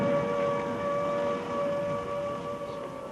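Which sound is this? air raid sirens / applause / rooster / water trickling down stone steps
air raid sirens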